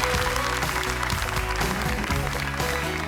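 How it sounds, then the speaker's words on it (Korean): A quiz show's studio audience applauds a contestant who has just been eliminated, a full sustained clapping wash mixed with loud stage music that carries its own beat, steady in level from start to finish. "격려의 박수 한번 부탁드리겠습니다"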